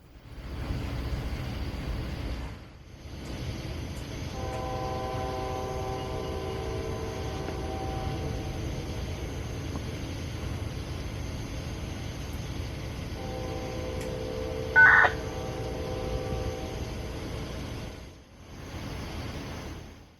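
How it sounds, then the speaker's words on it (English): A distant K5LA horn on a southbound loaded coal train sounds through North Georgia woods on a summer night, two long chorded blasts echoing faintly over the steady rumble of the moving train. "we would hear the sound of a distant K5LA echoing through the woods of North Georgia on a summer night"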